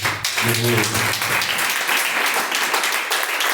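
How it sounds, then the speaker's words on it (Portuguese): Congregation applauding during a live church service, loud continuous clapping from many people, with a voice briefly speaking over it at the start. "Palmas para Jesus."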